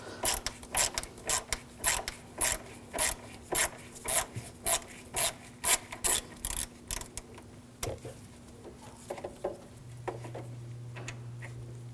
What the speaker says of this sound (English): using a T25 socket, there's a screw at the top of the radiator on both sides